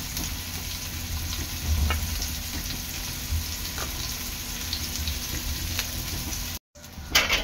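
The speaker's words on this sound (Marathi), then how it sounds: "हे चांगलं कुरकुरीत तळून घ्यायचं आहे।" Bilj fish sizzle steadily in a pan over low gas, a close, continuous crackling fry with occasional soft pops and a brief dropout near the end.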